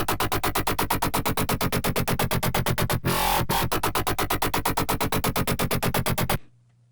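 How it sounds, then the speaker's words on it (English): A synth line run through Ableton's Erosion distortion for a metallic top end, playing rapid, evenly repeated pulses with a brief noisy swell in the middle, steady and loud until it stops suddenly near the end. "I've added an instance of Ableton's Erosion to add a little metal kind of to the top end."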